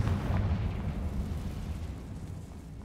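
Confringo blasting spell going off in Hogwarts Legacy, a deep booming explosion with a low rumbling tail that slowly fades over a few seconds.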